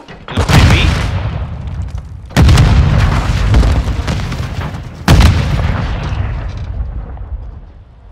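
Three heavy booming grenade explosions in a video game, each a sharp loud blast with a long rumbling decay, spaced a few seconds apart with no talk.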